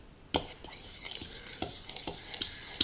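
A fork stirs melted butter into a cup of all-purpose flour in a bowl, giving soft repeated scraping and clinking taps that come close and clear at an uneven rhythm.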